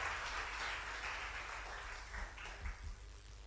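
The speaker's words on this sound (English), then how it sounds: "We can do better with the applause" Audience applause at a high school debate contest, a steady wash of many hands clapping that holds at an even level for the whole stretch and eases slightly toward the end.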